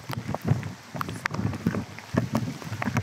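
Strong typhoon wind gusts buffet the microphone in uneven surges, with broad rushing noise and low rumbling, loud and close throughout, in Benguet.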